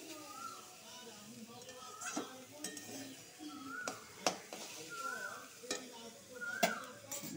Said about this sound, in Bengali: মোচাটা ভাজা হয়ে গেছে